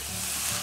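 Ready-made sauce from sachets sizzles loudly in a frying pan with sautéed pasta ingredients, a dense steady hiss throughout with no voices.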